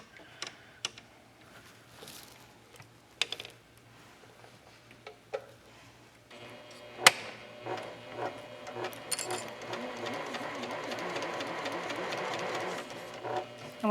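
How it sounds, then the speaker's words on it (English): A sewing machine with a Teflon foot stitches cotton fabric in a quilting appliqué, a quiet rapid whir that starts midway and runs steadily, with soft clicks and handling sounds before it. "You can use the Teflon foot when you're sewing together the cotton."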